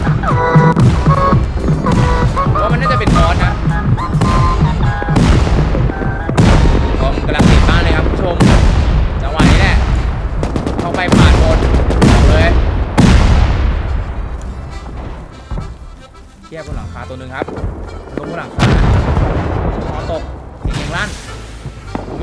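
Gunfire from the video game Rust, including an AK rifle: a long run of loud, close shots and booming blasts in irregular bursts, each ringing out with a decaying tail, and a brief lull near the end before more shots.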